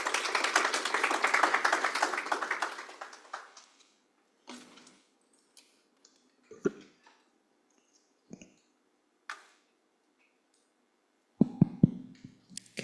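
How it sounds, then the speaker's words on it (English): Applause from a workshop audience of young people, a burst of clapping for a few seconds that dies away, followed by scattered isolated claps and taps in a quiet room. "Please give her a round of applause."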